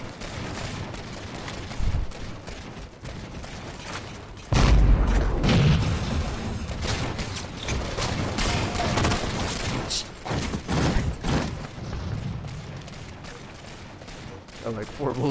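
SAW machine gun firing in Halo 4, rapid bursts and booming impacts that peak loudly midway, with voices chattering over the battle.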